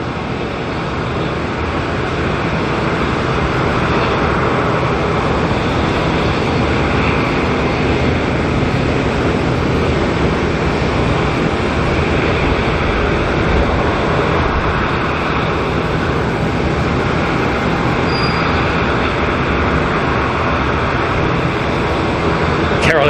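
A Boeing 777 lands at Auckland Airport with a continuous, loud broadband roar of engines and rushing air that holds steady throughout. A voice talks faintly underneath.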